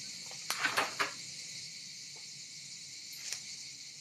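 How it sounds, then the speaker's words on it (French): Cicadas or crickets buzz in a faint, steady high-pitched drone, with a few soft clicks and knocks nearby. "C'est quoi les cigales qu'on entend?"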